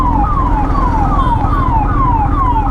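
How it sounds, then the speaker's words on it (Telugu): An ambulance siren wails loud and steady in a repeating falling sweep, with a rumble of road traffic beneath it. "అంబులెన్స్ కూడా వెళ్తుందంటే పక్క ఏమో జరిగింది"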